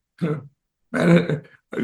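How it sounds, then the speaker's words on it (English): A man produces a short, throaty burp between bursts of conversational speech, close and fairly loud, with talk around it. "notice I burped"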